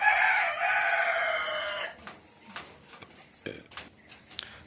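A rooster crows once, loud and close, in a flock of chickens from a Rhode Island Red and White Leghorn cross, then softer clucks and scattered calls follow from the birds nearby.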